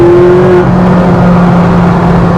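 A Ferrari engine climbs steadily in pitch as the car accelerates onto a freeway, loud and close with a continuous droning whine and rising harmonic tone, no voices.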